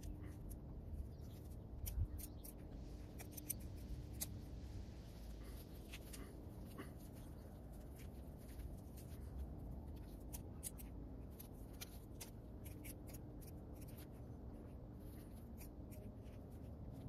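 Garden plants being cut with shears or scissors for replanting outdoors in a March garden: faint, close snips and rustling stems repeating irregularly over a steady low background, with no voice.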